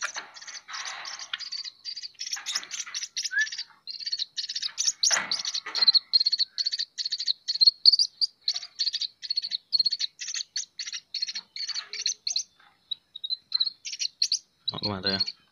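Baby white-breasted waterhen chicks chirp while being hand-fed, a dense run of shrill, rapid peeps close by, pulsing in bursts with brief pauses and a short lower voice near the end.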